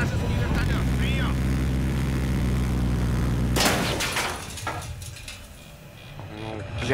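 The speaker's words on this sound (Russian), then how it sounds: "В вашем районе замечен вражеский вертолет." An enemy helicopter in a shooter video game throbs with a steady low rotor drone for several seconds before the sound shifts abruptly into scattered game noise, with voices speaking over it.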